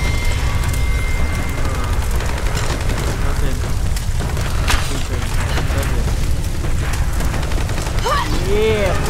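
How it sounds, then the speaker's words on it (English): Machine gun fire and booming blasts in Rise of the Tomb Raider, a dense, loud rumble of shots and explosions layered under game noise and character voices. "Machine gun, dude"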